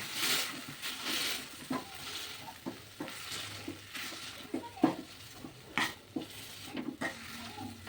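Fried onion and tomato mashed in a pan, a close, rhythmic run of soft squelching presses and scraping knocks over a light sizzle.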